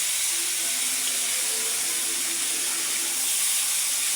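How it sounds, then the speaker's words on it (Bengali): Koi fish fry in hot oil with a constant, even hiss and steady sizzle, with no talking over it. "এখন আমি অপর পাশে কই মাছগুলো ভেজে নিচ্ছি"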